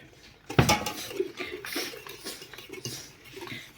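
Dough mixture for Easter paska bread gets stirred in a bowl, a sharp clink of utensil on bowl followed by soft repeated scraping and knocking strokes, close and moderately loud.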